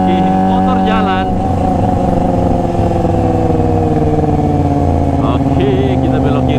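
A Kawasaki Ninja ZX25R fitted with a LeoVince LV10 exhaust rides along a rural road, its loud, raspy engine note shifting in pitch as it revs, close and continuous, with a voice talking over it.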